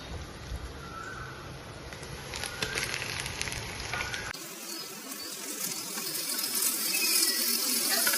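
Washed chicken goes into a pan of frying onions: a hiss and sizzle that shifts abruptly partway through to a louder, brighter crackle, steady and close with no voices.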